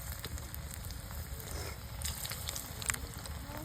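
Small prawn pakoras fry in hot oil over a low flame, giving a continuous soft sizzle and crackle with scattered pops, close by and without talk.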